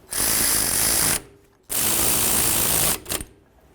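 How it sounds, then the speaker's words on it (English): A ratchet snugs up the brake caliper mounting bolts on a 2006-2018 Jeep Wrangler rear brake job: two loud, rapid clicking bursts about a second each, then a brief final few clicks, with no talking. "Grab our caliper mounting bolts. Let's snug these up."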